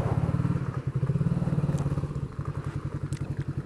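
A motorcycle engine running close by with a rapid throbbing idle pulse, the rhythm wavering slightly as the bike is moved along slowly, loud and alone without talk.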